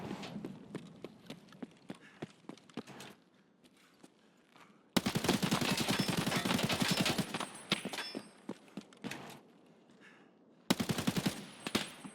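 Gunfire in the shooter game Escape from Tarkov (SPT): rapid bursts of close shots in several loud volleys separated by quieter gaps, with some scattered single shots and no talk.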